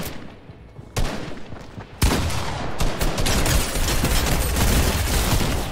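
Gunfire in the Fortnite video game: sustained bursts of rapid shots that start sparse and build into dense, loud, continuous firing with booming impacts, and no talking.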